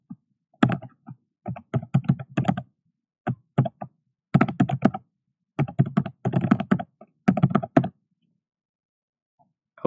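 Bursts of typing on a computer keyboard as an email address is entered into a ComAp controller setup page, quick clustered keystrokes in several runs with short pauses, close and clear, no talking.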